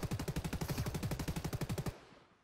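Rapid automatic gunfire in the Fortnite video game, a steady burst of roughly two dozen loud shots in quick rhythm that cuts off abruptly, leaving a short fading echo.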